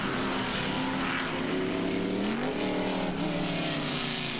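F5000 open-wheel racing cars, among them the Graham McRae GM1 and a Lola T332, scream past at Christchurch raceway in New Zealand. Loud, high-revving engine notes rise and fall as the cars shift and pass nearby.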